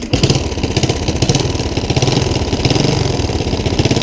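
A Triumph Bonneville motorcycle engine running nearby, a loud rapid chugging pulse with an uneven, slightly lumpy rhythm, alone without talk.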